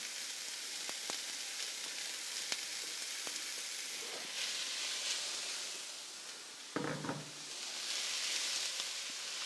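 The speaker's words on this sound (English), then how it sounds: "So we're just starting out with a bit of neutral oil in the pan. Get that really hot. Good to go. Get all our onions and the garlic in." Onions and garlic hit really hot neutral oil in a pan and sizzle steadily, a continuous broadband frying hiss with scattered pops and a brief clatter of stirring partway through.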